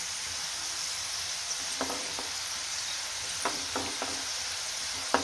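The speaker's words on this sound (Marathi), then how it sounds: "बघू शकता आता मस्त तळली" Chana and moong dal deep-frying in oil, a constant close hissing sizzle with a few light scoops and stirs of a spoon breaking through.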